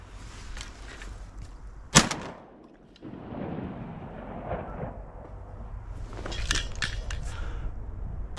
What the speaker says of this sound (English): I just had to take a shot